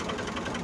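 A tractor engine runs in a Punjab village yard, a dense steady mechanical chug and rattle heard close and loud throughout.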